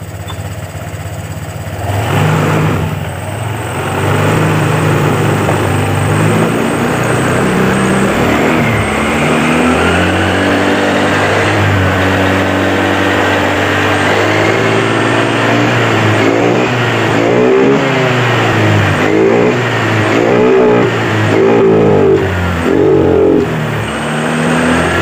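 Honda Vario 125 scooter engine running hard at high rpm with a steady loud drone and repeated revving swells, alone with no talk, the rpm-related fault evident as a rough, wavering pitch.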